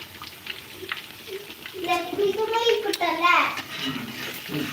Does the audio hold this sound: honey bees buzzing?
no